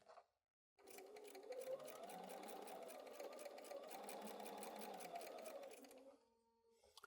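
A sewing machine stitches two pinned quilt fabric pieces together in a steady, fast mechanical rhythm lasting about five seconds. It starts abruptly after a short silence, then slows and stops, with no talking over it.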